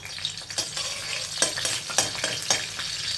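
Mutton frying in a pan with mustard seeds and slit green chillies, a steady sizzle broken by repeated scraping stirs of a spoon against the pan, close and fairly loud, with no talk.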